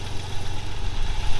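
A 2.6 V6 engine in an Audi 80 B4 runs at idle, a steady low, throbbing hum with slight rough pulsing, close and fairly loud with no talk.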